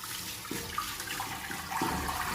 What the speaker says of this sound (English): Now we're going to fill our pot with water from the tap.